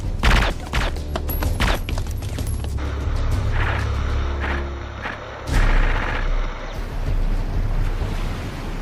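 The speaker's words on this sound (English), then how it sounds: "we're under heavy fire!" Heavy gunfire roars through an action-movie battle scene between Navy SEALs and a terrorist assault team on shore, a dense, loud, continuous barrage with rumbling blasts and no speech.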